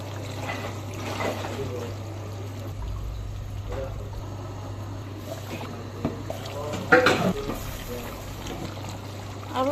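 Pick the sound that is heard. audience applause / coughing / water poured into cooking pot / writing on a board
water poured into cooking pot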